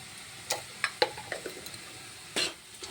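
Spoon scraping and stirring a fish-head and colocasia greens curry in a pan, a few separate quiet clinks and scrapes over a soft sizzle, with a longer scrape near the end.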